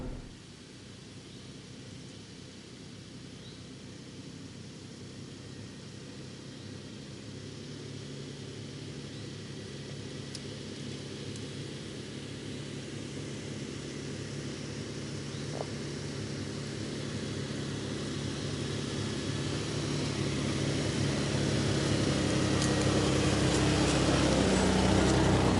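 A Toyota 5th Gen 4Runner SR5 engine labouring up an off-road climb, a broad steady drone that slowly grows louder over about 25 seconds, with no voices.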